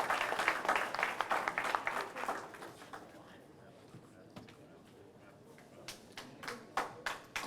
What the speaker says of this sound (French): On applaudit encore très très fort pour eux